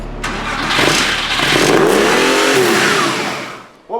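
A cheap Porsche 911 engine with a fault that makes it rev on its own climbs loudly in pitch, holds high, then falls back, heard close and alone, with a brief sharp noise near the end.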